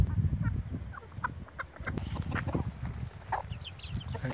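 Chickens clucking and cheeping in a barnyard, several birds calling in short bursts over low rustling and background farm noise.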